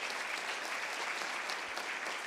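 Steady applause from an audience at the 2017 Seoul International Fair and Sustainable Tourism Forum, a dense unbroken patter of many hands clapping at moderate volume from start to finish.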